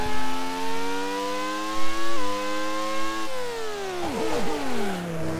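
Race car engine from the video game Grand Prix 2 whines steadily at high pitch, holding one tone, stepping briefly at gear changes, then dipping and wobbling sharply as revs drop and recover, alone with no talk.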